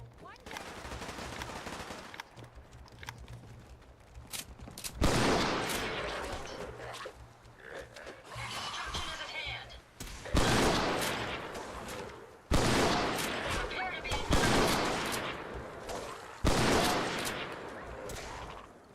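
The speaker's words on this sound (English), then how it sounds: "That settler just started shooting me because her husband walked into my mine." Settler gunfire in Fallout 4: bursts of shots arrive in repeated volleys, several loud clusters spread across the stretch, with game ambience and some voice underneath.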